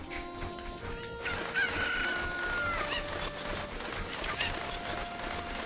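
A chicken in the video game Ocarina of Time clucks and squawks repeatedly over dense game sound and music, with no talking.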